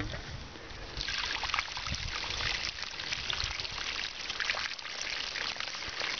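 Muddy water from an old well gushes through a hose in a steady broadband rush, starting faint and rising loud after about one second, continuous to the end with no talk over it.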